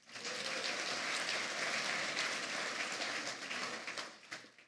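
A large audience at a city and county State of the City event claps together. The applause is steady and dense throughout, with no voices, and thins out toward the end.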